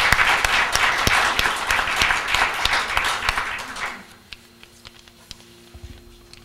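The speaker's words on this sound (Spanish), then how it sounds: "desde ya quisiera que lo recibiéramos con un cariñoso aplauso para mostrarle nuestro aprecio" Warm audience applause welcoming a speaker at a history and archaeology society lecture rolls on for about four seconds, then dies away to a quiet room with a few scattered last claps.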